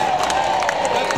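A street-performance crowd watching a chainsaw juggler in Covent Garden lets out a brief practice cheer, a short burst of whoops and scattered clapping mixed with voices.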